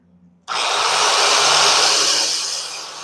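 A piston ring gap grinder cuts engine rings: after a brief quiet start, a loud, steady, high grinding whine kicks in close by and holds, easing slightly toward the end.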